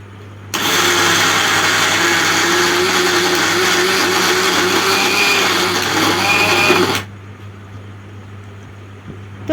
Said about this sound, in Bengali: ডালটা এই যে মিক্সি করছি